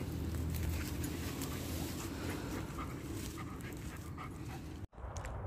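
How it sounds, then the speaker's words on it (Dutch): Outdoors while wild plants are dug up, a dog pants and whimpers close by, a continuous soft breathy sound with small yips and scuffling, fairly faint and ending abruptly. "En zoals jullie horen, probeert de hond mij te helpen met graven."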